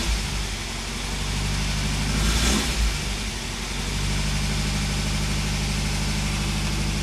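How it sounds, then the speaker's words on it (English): An older car engine idles with revs running too high, a steady loud hum with a constant low drone and one brief swell partway through, all alone without voices. "revs running very high."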